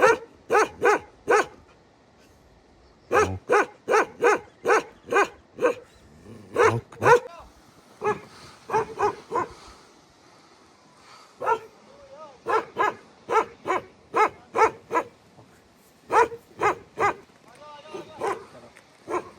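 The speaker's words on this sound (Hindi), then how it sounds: "भौंक भौंक भौंक भौंक भौंक भौंक" A dog barks loud and close in rapid volleys of sharp yaps, pausing briefly between bursts.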